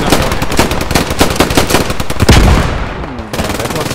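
Automatic gunfire in Squad 44, a WWII battle in Carentan, with rapid, loud bursts of close shots in a quick rhythm and a heavier blast near the end, all continuous over a busy battlefield.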